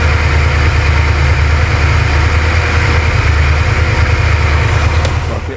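A Porsche 928 V8 idles loud and close with a steady, unbroken rumble and an even mechanical hum throughout, no voices over it.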